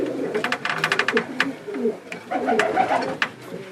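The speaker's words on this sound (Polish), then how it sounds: "To jest właśnie ten gołąb." Racing pigeon cooing in a loft, with repeated soft calls and some brief sharper chirps, fairly close, continuing in irregular bursts throughout.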